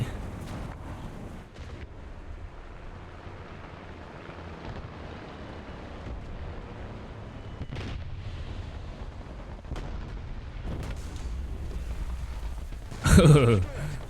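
A deep booming Sturmtiger 380 mm cannon blast in War Thunder near the end, loud and sudden, after a stretch of low rumbling game noise and scattered distant thuds.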